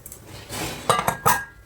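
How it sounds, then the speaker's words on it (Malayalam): Metal clatter as a pressure cooker lid is pushed shut over rice on a kitchen stove, a soft scrape followed by two sharp metallic clanks close by. "കുക്കർ അടയ്ക്കുക, ക്ലോസ് ചെയ്യുക."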